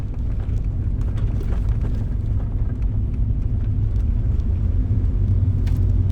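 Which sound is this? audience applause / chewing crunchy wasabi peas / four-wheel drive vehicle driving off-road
four-wheel drive vehicle driving off-road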